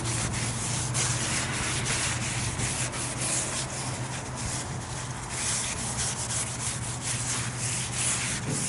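Paper towel rubbed around the inside of a rear brake rotor on an '04-'08 Ford F-150, a steady close scrubbing and swishing with repeated strokes lasting several seconds, no talking.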